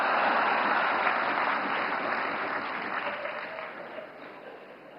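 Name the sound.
audience applause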